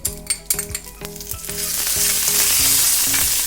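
Loud frying sizzle builds into a steady hiss of cumin seeds, mustard seeds and curry leaves crackling in hot oil for raita tempering, with a few sharp clinks and stirring knocks early on.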